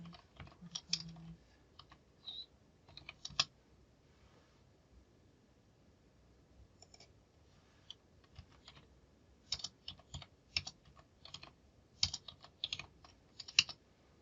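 Numbers are typed on a computer keyboard in quick bursts of soft, close key clicks, separated by short pauses and set against a quiet background.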